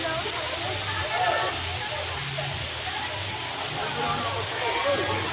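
Strong, rushing water at Alita Falls gives a steady, broad hiss with some splashing, heard up close and unchanging throughout.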